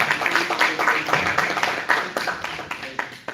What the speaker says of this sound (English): Students, a huge clap for him.